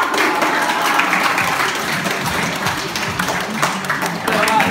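Applause from a dance battle audience for the participants, continuous clapping from a crowd blended with a voice speaking over it throughout.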